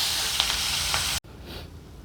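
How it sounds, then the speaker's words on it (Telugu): Peanuts fry in hot oil with green chillies and curry leaves, a loud, close, steady sizzle that cuts off abruptly partway through and returns much fainter. "పల్లీలు కూడా వేయించుదాం."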